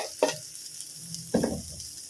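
Fried rice with carrots is stirred in a pan: two distinct scraping strokes of a utensil against the pan over a faint background sizzle, close and fairly loud.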